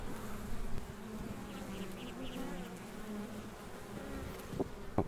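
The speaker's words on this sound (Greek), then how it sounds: "Είναι το τέλειο η μέλισσα." Honey bees buzz steadily around a beekeeper's hives, a dense continuous drone with faint nearby clicks and rustles, no talking.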